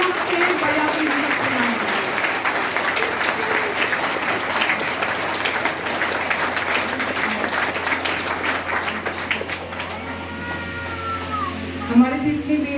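Dense, sustained audience applause at a Ramgarh meditation centre gathering, loud and continuous for most of the stretch before thinning as a voice starts to speak.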